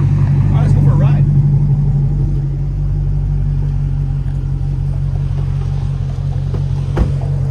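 A 2007 Dodge Magnum SRT8 driving, its engine a steady low rumble heard from inside the cabin, loud and continuous with a slight swell early on and brief voices over it.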